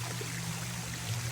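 Shower water at a wave pool runs in a soft, steady stream, faint and continuous, with a low hum beneath it.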